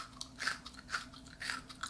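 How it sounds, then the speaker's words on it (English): Close bites into crunchy freeze-dried frog-shaped candy, with several sharp crunches landing in an uneven rhythm and no talking. "Oh, that crunch."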